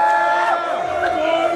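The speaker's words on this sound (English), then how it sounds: "A round of applause for Mr." A crowd at a music awards show in Minnesota cheers and shouts loudly, voices whooping together in one brief, continuous burst.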